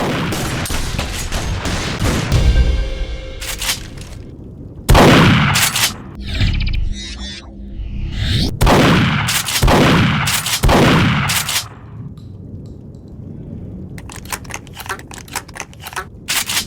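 A shotgun fires several times in the video game Duke Nukem Forever, each loud booming blast followed by mechanical pump and reload clatter, spaced a few seconds apart.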